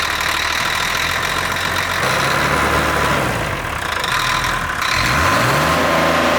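A car engine with a knocking fault runs steadily, loud and close, its low rumble holding level with a brief rise in revs near the end, with no talk.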